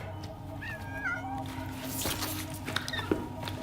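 A cat meowing in the video game Death Stranding 2, several short rising mews close by over a low ambient hum and light background sounds.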